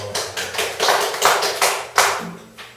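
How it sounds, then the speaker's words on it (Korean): An audience at a public mind-healing lecture claps together in a short burst of about nine loud, sharp claps in a slightly uneven rhythm, with no voices over them. "박수 한번 칠게요"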